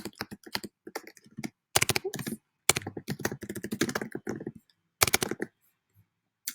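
Computer keyboard typing comes in quick, close bursts of sharp key clicks separated by short pauses, with no voices.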